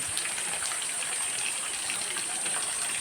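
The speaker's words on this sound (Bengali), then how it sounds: "করই গাছের পাতাগুলা বৃষ্টির পানিতে খুব সুন্দর নাচানাচি করছে" Rain falls steadily on roadside koroi trees beside a road, giving a constant dense hiss of drops on leaves and the surface, even and fairly loud throughout with no talking.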